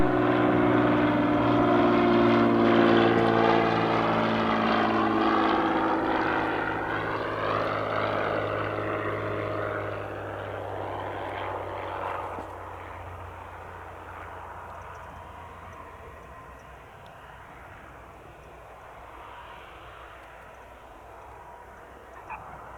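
A Bonanza propeller airplane on landing approach to runway 8 right at Spirit of St. Louis Airport, its engine drone loud and near at first, then receding and fading into a lower, steady rumble.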